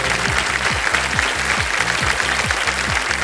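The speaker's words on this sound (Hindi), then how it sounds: "ताली बज गई।" Studio audience applause on a TV quiz show set, a steady wash of clapping beneath a rhythmic musical sting with repeating low pulses.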